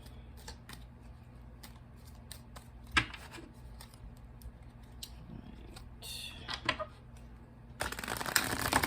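Cards from a Spirit Animal Oracle deck are drawn and shuffled during a tarot reading, giving soft intermittent papery flicks and snaps over a quiet room hum, with a denser rustle toward the end.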